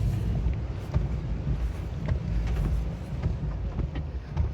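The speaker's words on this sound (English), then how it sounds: "Wind's getting a lot more serious." Strong wind during Hurricane Milton in Orlando, a steady low roar and buffeting from outside a moving vehicle, with faint knocks and rattles scattered over the continuous rumble.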